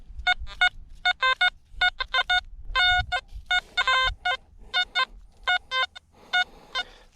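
Bursts of electronic beeping tones from a metal detector over a buried object in a field come in quick, uneven pulses, crackling and unsteady, with nothing else audible.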